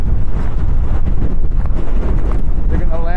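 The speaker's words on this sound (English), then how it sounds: "Oh my God, it's windy." Strong desert wind buffets the microphone in a steady, heavy low roar that fills the whole stretch, with a voice faintly mixed in near the end.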